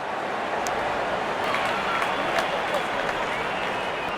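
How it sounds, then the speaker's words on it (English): Cricket crowd at a Pakistan versus Zimbabwe T20 international applauding a batsman's fifty: broad, steady clapping and cheering from a large crowd at a distance, even and sustained, with faint scattered whistles. "Wonderful 50, and the crowd applauds."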